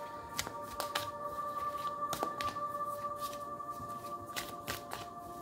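Tarot deck being shuffled and cards drawn, a series of crisp riffling and flicking snaps at irregular intervals over a faint steady hum, with no talking.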